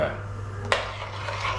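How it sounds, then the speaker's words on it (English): A spoon stirring scallop soup in a pot, one sharp metallic clink against the pot over a low steady simmer and hum. "Give these a stir"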